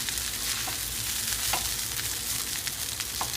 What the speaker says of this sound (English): Make sure you keep stirring it up.